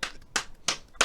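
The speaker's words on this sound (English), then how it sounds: "Everybody, we need you to give a round of applause." Four sharp, separate claps sound at an even pace in a quiet room, bright and close, with short silences between them, as hands come together for a round of applause for an esports team.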